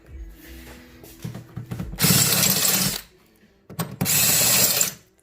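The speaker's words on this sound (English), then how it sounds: "now we're going to use this little chamfer tool to get them all cleaned up" A small chamfer tool deburring freshly drilled holes in a Mustang during a racing harness install, giving two loud, harsh scraping bursts of about a second each, with lighter clicks and handling noise between them.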